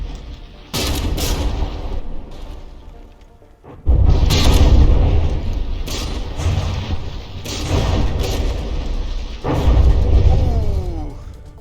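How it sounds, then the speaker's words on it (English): Battleship turret struck by shells in the From the Depths naval combat game, a run of heavy booming impacts and explosions arriving in several loud bursts, with a short quieter lull between them. "This turret taking a direct hit"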